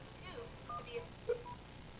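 A few short, faint telephone keypad tones sound one after another, selecting the conference option on an Asterisk phone system, with quiet background noise between them.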